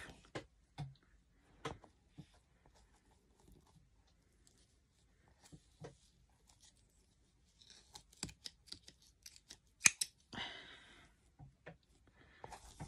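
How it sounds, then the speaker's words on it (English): Scissors snip through the hair weft of a hard-front synthetic wig, trimming off the front section in a handful of sharp, close, quiet cuts spaced irregularly, with small handling rustles between and no talk. "So I'm just going to snip it and just take this bit off here."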